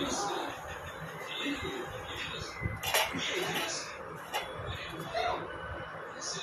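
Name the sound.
lid placed on an appe pan to steam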